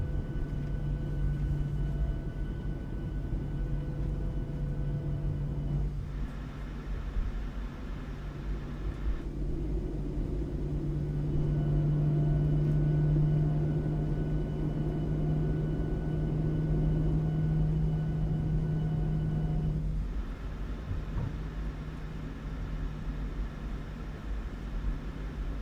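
PMDG 737 engines during takeoff in MSFS with the Borris Audio sound pack, a steady loud jet roar with a droning hum that swells and shifts in layers as the run continues.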